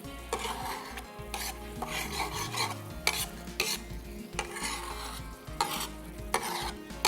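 Masala stir-fried in a pan for vegetable katakat, a steady close sizzle with repeated scraping and clattering strokes of a utensil against the metal.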